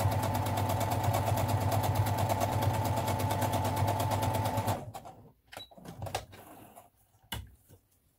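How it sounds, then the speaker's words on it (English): Sewing machine stitching the long side of a scrunchie, a fast steady mechanical chatter for about five seconds, then it stops, followed by a few faint clicks and handling sounds. "I have placed the scrunchie piece onto my machine and I'm going to sew the long side."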